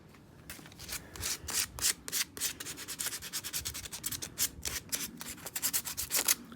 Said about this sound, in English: I did make the mistake of sanding the Universal Pillar Tool parts inside the workshop.